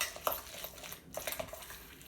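A spoon stirs a plant-based chocolate mixture for homemade chocolates, giving soft scraping swirls with a few light clinks against the bowl, close and moderately quiet.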